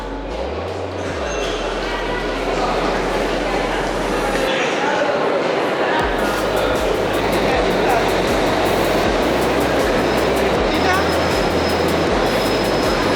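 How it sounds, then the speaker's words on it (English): A London Underground District line train to Richmond rumbles loudly into a station, wheels clattering steadily on the rails, with a low drone and faint platform announcement underneath. "the train now approaching is to Richmond"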